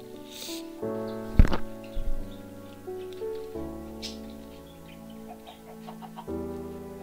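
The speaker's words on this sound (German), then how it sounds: "Das sind jetzt sogar relativ viele Hühner." Chickens cluck in the video game Minecraft, with repeated short bird calls over layered, sustained game music tones and a sharp click near the start.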